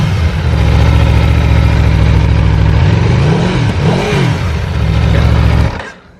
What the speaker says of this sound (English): Give it some small revs here because we're in a development.